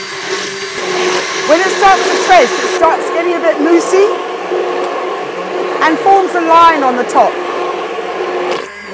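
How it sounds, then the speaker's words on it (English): Hand blender whizzing olive oil and caustic soda into soap, a steady motor whine running throughout under a voice talking. "Now I'm going to start whizzing with my blitzer, excuse the noise, and add in the caustic soda."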